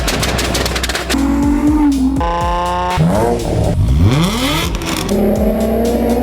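A Nissan 350Z's loud HKS Hi-Power aftermarket exhaust roars close by through repeated revs and shifts, the pitch sweeping sharply up and down with crackling pops.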